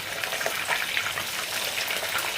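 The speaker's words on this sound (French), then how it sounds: "on a déjà laissé frire nos poissons 2 minutes de chaque côté" Fish sizzles in hot oil in a frying pan, a steady dense crackle and hiss close by, with no one talking.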